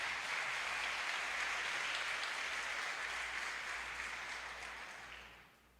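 A church congregation claps in praise during a sermon, a broad, even roar of many hands that holds steady for several seconds, then gradually fades out at the end; no voices are heard over it.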